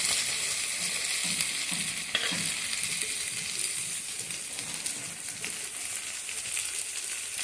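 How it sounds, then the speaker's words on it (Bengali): Chopped onions fry with spicy boneless meat, a loud continuous sizzle with occasional scraping and stirring clatter, no one speaking. "এবার আমি এর মধ্যে দিয়ে দেব পেঁয়াজ কুচিগুলো।"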